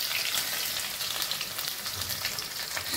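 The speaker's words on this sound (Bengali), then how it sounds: "রসুন কুচি দিয়ে সামান্য নেড়ে চেড়ে" Chopped garlic and nigella seeds fry in hot oil, making a dense, continuous close-up sizzle with a bright crackling hiss and no voices.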